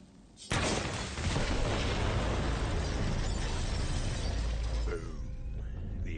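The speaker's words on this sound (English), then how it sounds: "The explosion echoed through the forest" Set bombs detonate in the Borderlands 3 video game with a sudden loud blast, followed by a dense, sustained roar of debris and rumble that holds for several seconds before easing slightly.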